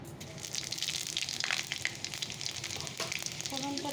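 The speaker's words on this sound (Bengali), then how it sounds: "কড়াই তেল দিয়ে দিয়েছি তো চলো একটু ফোড়ন দিয়ে দিই" Whole spices tempering in hot oil in a wok for a stalk stir-fry, a close, busy crackle and sizzle with spattering pops running throughout, no talk.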